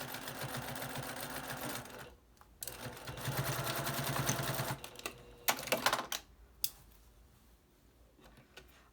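A sewing machine stitches a fabric face cover with a filter pocket, back tacking at the seam ends; rapid mechanical whirring comes in close bursts separated by short pauses and softer handling clicks.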